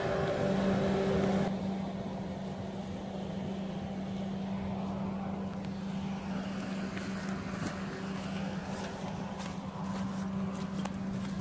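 A tractor engine drones steadily on a countryside riverside footpath near Barcombe Mills, a constant low hum with a sustained tone that stays fairly even throughout, mixed with broad outdoor noise and no talking.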